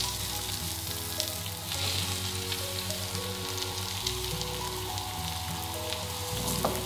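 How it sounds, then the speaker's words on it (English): Hake fillet searing fresh side down in olive oil in a hot pan, a loud, steady close-up sizzle and crackle of frying with no butter, continuous throughout with no talking. "Now, nice hot pan. Olive oil."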